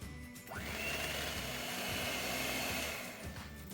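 An electric mixer beats margarine and powdered sugar for a plum cake. It whirs up after half a second into a steady, fairly loud motor drone that holds throughout and eases slightly near the end.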